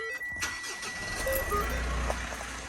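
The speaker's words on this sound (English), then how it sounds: "turn the car on" A car engine cranks and catches, then settles into a steady low rumble that continues to the end.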